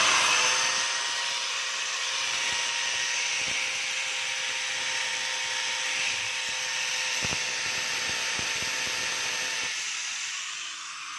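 A DeWalt DWE8200S angle grinder with sparking brushes runs steadily, a loud continuous high-pitched motor whine with a few sharp clicks and crackles, easing off near the end.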